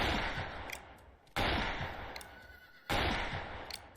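Three sharp gunshots ring out at regular intervals in the cowboy video game Fistful of Frags, each a loud crack that decays into a short echo, with faint game ambience in between.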